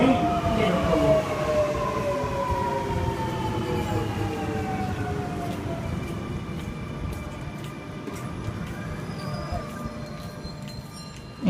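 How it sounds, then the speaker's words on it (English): Sydney Trains M set departing platform 1 at Edmondson Park station, with a motor whine that falls and then rises as it pulls away, along with rumbling wheel noise and some squealing tones. "we have M6 departing platform 1 for a Liverpool service"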